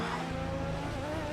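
Formula One car in the F1 2013 racing game at Imola, braking late: a steady, loud engine drone with a thin tire squeal riding on top, continuous with no voices.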